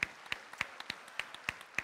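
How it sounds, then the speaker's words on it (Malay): Sparse, evenly spaced claps ring out for a few seconds at a Malaysian MARA anniversary forum, sharp individual hand claps rather than a full ovation, fairly faint and with no talking over them. "Kita bagi satu tepukan yang gemuruh"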